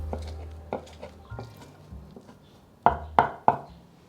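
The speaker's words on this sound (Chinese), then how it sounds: "换一个方向切碎" A knife cuts soaked dried shiitake mushrooms on a board, light taps at first and then three sharp, loud chops near the end, close up with no voices.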